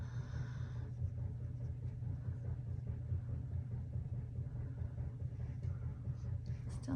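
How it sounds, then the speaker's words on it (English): A steady low rumble and hum of a washer and dryer runs throughout in the background, fairly faint and continuous with no talking over it. "my washer and dryer in the background."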